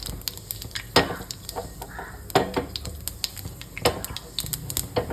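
Mustard seeds and fenugreek splutter in hot coconut oil for Kerala sambar, an irregular run of sharp pops and crackles over a low sizzle, close and fairly loud.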